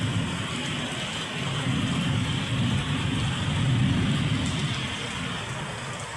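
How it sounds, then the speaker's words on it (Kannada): Heavy evening rain in Mangalore pours in a dense, steady hiss with a low rumbling undertone, close and continuous with no voices. "ತುಂಬ ಜೋರಾಗಿ ಮಳೆ ಬರ್ತಾ ಇದೆ ನೋಡಿ"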